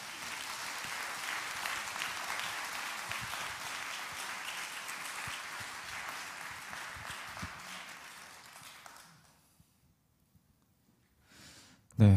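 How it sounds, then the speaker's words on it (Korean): A church congregation at a missionary commissioning service gives a long round of applause to welcome a missionary, a broad, even clapping crowd that fades out into near silence, followed by a sudden loud bump at the very end. "오늘 귀한 말씀 전해주실 선교사님을 큰 박수로 모시겠습니다"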